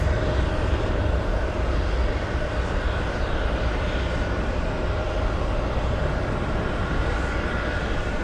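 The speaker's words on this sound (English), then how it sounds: "we have the A330neo lining up, and it's going to use runway 4 right for takeoff" An Airbus A330neo roars steadily on takeoff from runway 4 Right at Boston Logan, a loud, continuous broadband jet rumble that stays even throughout with no talk.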